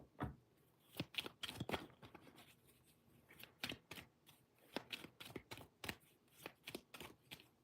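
Tarot cards are shuffled and handled by hand, a quiet, close series of soft riffling flutters and snaps in an irregular rhythm, with no talk.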